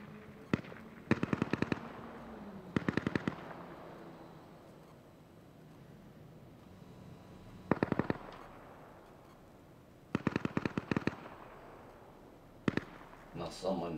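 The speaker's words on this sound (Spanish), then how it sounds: "Oigo, oigo los disparos." Bursts of rapid gunfire in the survival shooter Deadside crack out in several distant clusters of quick shots, separated by quiet ambient stretches, with no talk over them.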